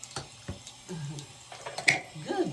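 Water running at a bathroom sink while a child washes, a faint splashing trickle broken by small clicks and taps of hands and objects at the basin, heard close and quiet.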